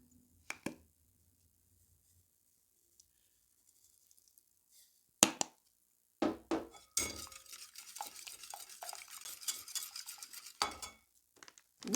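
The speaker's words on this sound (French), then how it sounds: "On mélange bien nos 3 œufs." Three eggs beaten in a bowl: a few sparse clinks at first, then a busy stretch of rapid tapping and scraping of utensil against the bowl, close and moderately loud.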